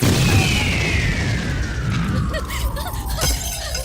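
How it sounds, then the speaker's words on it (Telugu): A loud boom with a rumbling crash and falling whistle, from sweets exploding like bombs in a comedy film scene, sustained under a busy background. "ఫోర్నాలు బాంబుల్లా ఫేలిపోయినాయి ఏంటి?"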